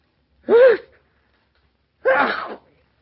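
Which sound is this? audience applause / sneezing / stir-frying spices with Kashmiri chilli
sneezing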